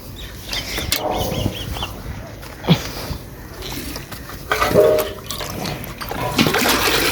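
Water gushes and splashes as it is poured out for a buffalo in a village farmyard, coming in uneven bursts with trickling between them and some faint background noise.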